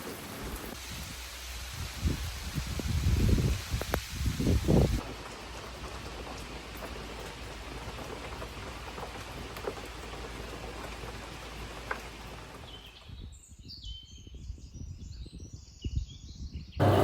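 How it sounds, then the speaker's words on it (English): Rain falls steadily on a garden with vegetable beds beside a French chateau cottage, giving a continuous hiss with a few louder splashes near the start and a brief gap near the end. "at least we're getting a good amount of rain"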